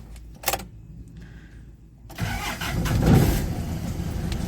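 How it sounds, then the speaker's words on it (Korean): A 2001 Hyundai Porter Super long-bed truck with about 80,000 km cranks briefly and starts at once, settling into a steady, close diesel idle after a few faint clicks. "이어서 바로 시동 걸어보도록 하겠습니다."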